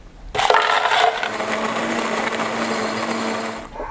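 Ice tumbles into a cup for an iced mochaccino made with moka pot coffee: a sudden loud clatter of cubes, then a sustained crackling, settling rattle that fades near the end.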